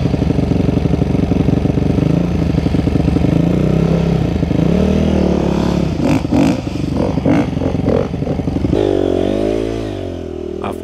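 A Honda CRF dirt bike engine revs and surges along a forest trail in Bunyip State Forest, loud and close, with throttle blips, shifting pitch and a drop to a lower rumble near the end.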